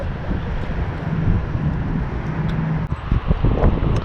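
Steady outdoor wind rumbles against the microphone beside the water during a bass fishing trip with kids, a continuous low buffeting with no speech.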